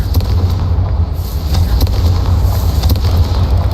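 The Confringo fire spell bursts in Hogwarts Legacy, a loud crackling blast over a continuous low rumble, with a few sharp cracks following.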